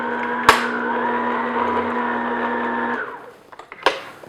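An electric stand mixer whirs steadily for about three seconds while beating brioche hamburger bun dough, then cuts out. A sharp knock comes near the start and another clack follows once it stops.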